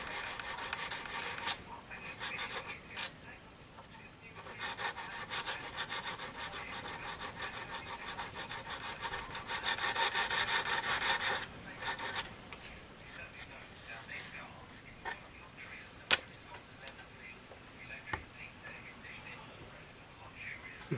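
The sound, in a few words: sanding during RV-6 aircraft construction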